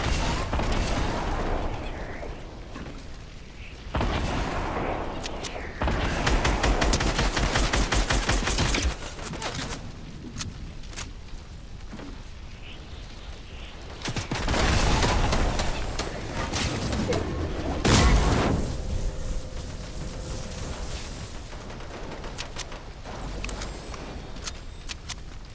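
Snowball shots fly during a Fortnite match as repeated bursts of sharp, popping gunfire-like impacts over steady game noise, with a louder cluster near the middle and a sharp boom later.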